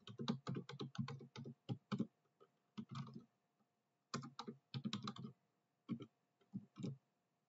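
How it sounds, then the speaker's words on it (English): A new password is typed on a computer keyboard: bursts of quick, close key clicks in several short runs with brief pauses between them, crisp and fairly quiet, with no voices. "I'm going to enter in that new password into these fields here."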